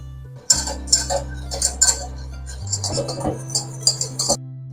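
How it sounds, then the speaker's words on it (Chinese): Wire whisk clinking rhythmically against a small pot, beating a lemon tart egg-yolk mixture over medium-low heat; repeated bright metallic taps in quick bursts over a steady low hum. "我们需要移到火炉上，以中小火加热，搅打至浓稠的程度。"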